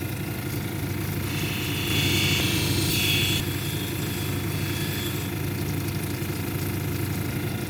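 A hard grinding wheel shapes a brown onyx cabochon, giving a steady, close motor drone with a dense whirring hiss that swells briefly as the stone is pressed to the wheel.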